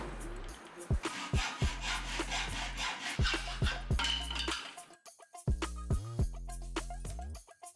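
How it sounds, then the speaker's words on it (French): A hacksaw cuts through a metal curtain rail in a run of rhythmic, raspy strokes that are close and fairly loud, then the sawing gives way to scraping and clinking handling noises. "utilisez une scie à métaux"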